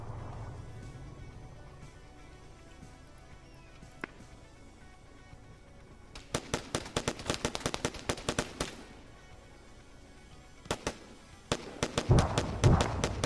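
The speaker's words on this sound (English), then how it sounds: "Oh, and there's the AA firing." Anti-aircraft gun in the military video game Arma 3 firing rapid bursts of sharp cracks, two long volleys separated by a quieter stretch, fairly loud and distinct.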